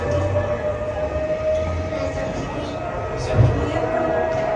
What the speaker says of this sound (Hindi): दुआ के बाद फ़ौरन जब सायरन बजा, तो मैंने बाहर जाकर कोशिश की कि मैं उस सायरन को कैप्चर कर सकूँ